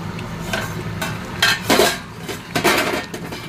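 A lid goes onto a pan of Bengali katla fish kalia, with metal clanks and rattles of cookware over a low background sizzle, in several close bursts.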